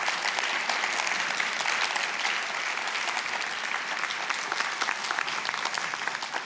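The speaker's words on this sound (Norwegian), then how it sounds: "Vi tar en applaus for dem." A panel-debate audience about the future of universities applauds steadily, dense continuous clapping filling the room at an even level with no talk over it.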